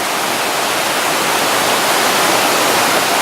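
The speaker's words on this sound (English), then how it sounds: "I guess you can't really call them waterfalls with little steps" Steady, loud rushing of a mountain stream cascading down small rocky steps along the Middle Prong Trail in the Smoky Mountains, a continuous close wash of water with no breaks.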